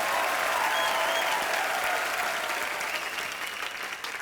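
Loud applause from a TV comedy show studio audience, a dense wash of clapping that stays strong and tapers slightly toward the end.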